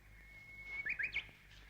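A bird chirps faintly outdoors, a short burst of three or four quick high tweets over a thin steady whine and low background hum.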